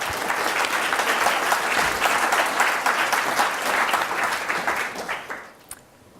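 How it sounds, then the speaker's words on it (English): Audience applause for speakers at a big data panel, a dense steady clapping from a seated crowd that holds for about five seconds, then thins and fades out near the end. "If we could have a quick round of applause for our speakers"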